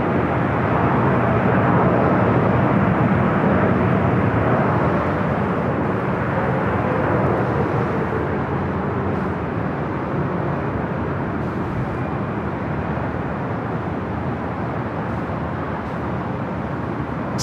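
A Boeing 747 lands on runway 25 left at LAX, a loud, continuous jet roar that rushes past and slowly eases, with no voices over it.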